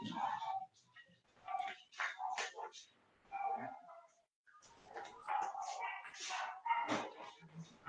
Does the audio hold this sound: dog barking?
yes